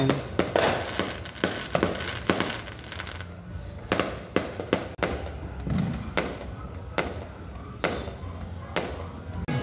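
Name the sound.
firecrackers being set off on New Year's Eve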